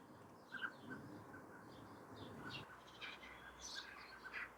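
Blackbirds calling in a garden near a summer house, short chirps and calls scattered over soft outdoor background noise, fairly faint and somewhat distant.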